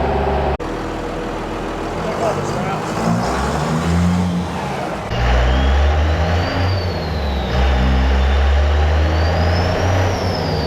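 The RatBack car's engine drones and then revs harder on a dyno, a loud sustained roar with a rising whine in the second half and brief talk nearby.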